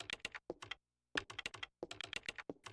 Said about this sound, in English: PS1 typing on a keyboard sound.